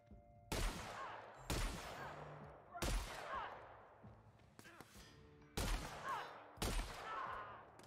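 Rifle gunfire in The Outer Worlds video game: six loud, sharp shots spaced about a second apart, each with a booming tail, one fainter crack between them.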